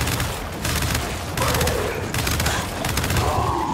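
Rapid, sustained gunfire from the Gears 5 video game, dense overlapping bursts of shots filling the whole stretch at a loud, steady level.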